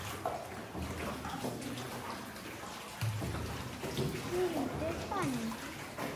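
Water dripping from the ceiling inside a cave on a boat tour in Ninh Binh, Vietnam, with irregular drips and splashes over a wet, echoing background while people talk nearby.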